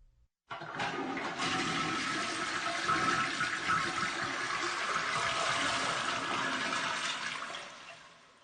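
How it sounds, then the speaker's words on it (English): A toilet flushes with a loud, steady rush of water lasting several seconds, then tapers off as the tank drains. "I had to flush my goldfish down the toilet"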